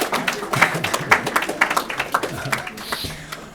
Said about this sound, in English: Let's give them a round of applause for being here in the room.